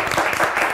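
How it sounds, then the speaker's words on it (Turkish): Brief burst of studio audience clapping on a Turkish word-game show, dense and fairly loud, lasting under a second. "Alkışlar son yarışmacımız Gizem Hanım için efendim."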